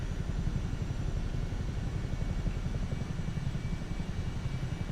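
A Chinook tandem-rotor helicopter in Microsoft Flight Simulator 2024 gives a steady, even drone of engine and rapid rotor thump, moderately loud and unchanging throughout, with no talking.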